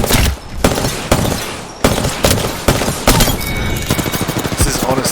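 Rapid gunfire from the Apex Legends video game fills the scene, loud and close, with dense bursts of shots and a short pause before an automatic weapon rattles on steadily.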